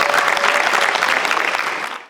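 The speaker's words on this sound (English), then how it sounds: "A round of applause for all of our dignitaries on stage today." Crowd applause at an outdoor Canada Day celebration in Town Centre Park, Coquitlam, loud and close, a thick continuous burst of clapping for dignitaries on stage that fades slightly toward the end.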